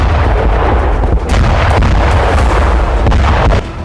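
Cluster bomb explosions strike in a Ukrainian attack on Russian positions near Bakhmut, a dense barrage of loud overlapping blasts and crackling bursts that roar continuously before cutting off.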